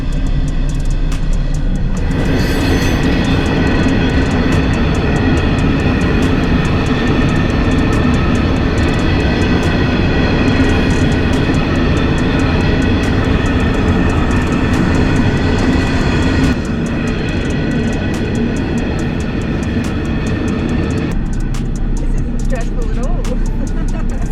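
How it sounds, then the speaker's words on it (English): A long freight train rumbles past close by, a continuous heavy roar with rattling wagons that never lets up. "now we've got to stop for a train."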